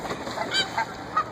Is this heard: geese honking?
yes